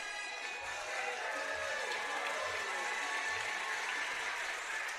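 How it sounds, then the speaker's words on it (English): A crowd at a high school varsity basketball game applauds and cheers in a dense, sustained roar of clapping that holds steady from start to finish. "Crowd gives a big round of applause."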